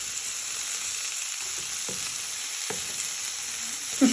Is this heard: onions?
yes